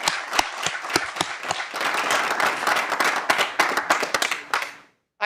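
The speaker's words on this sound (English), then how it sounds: "Can we give Professor Brown a round of applause for all she's done" Applause for a professor at the official launch of the Institute for Black Intellectual and Cultural Life: an audience claps steadily with a few sharper claps standing out, filling the room for about five seconds before dying away to silence.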